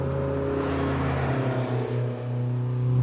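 A 400HP turbocharged Toyota MR2 with a mid-mounted engine drones loudly and steadily close by, dipping briefly before the revs swell again toward the end, with no talking.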